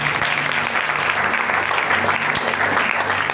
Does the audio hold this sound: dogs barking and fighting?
no